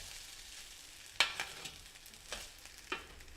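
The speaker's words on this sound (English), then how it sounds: "you have to constantly stir it because otherwise it sticks to the pot" Paella rice simmering in shrimp broth in a pot is stirred, giving a faint, steady bubbling sizzle with several soft scraping clicks of the spoon against the pot.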